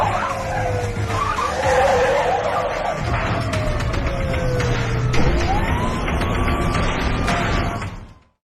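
A film car chase plays out with tires skidding and squealing, engines roaring and sirens wailing in a loud, busy mix before it cuts off abruptly.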